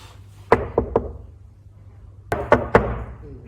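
Two quick sets of three knocks on a relative's bedroom door in the middle of the night, the raps sharp and close against a quiet room.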